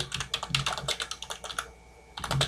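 Keys clatter on a computer keyboard in quick bursts of typing, close and moderately quiet, with a short pause before a final flurry of keystrokes.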